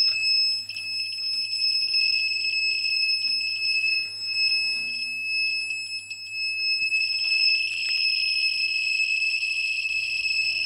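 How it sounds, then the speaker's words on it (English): A dosimeter watch near Chernobyl's highly radioactive graphite crane claw sounds a high, thin electronic radiation warning tone, steady and sustained over a quiet background with a faint low hum. "That beep is my watch, my dosimeter watch, which is warning me of high levels of radiation."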